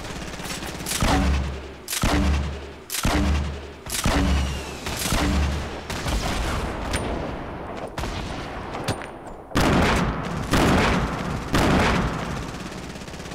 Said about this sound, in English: I'm about to launch my grenade launcher.